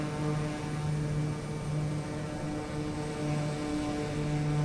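Propeller aircraft engine at full throttle, a loud continuous droning hum with steady tonal harmonics, heard close and alone with no voices.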